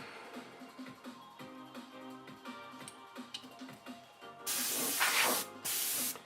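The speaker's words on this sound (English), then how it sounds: "I just think my airbrush is a little clogged at the moment." A clogged airbrush spraying matte varnish during anime kit painting gives a close, loud hissing burst, then a short break and a second spray, following several seconds of quiet ticking and clicking.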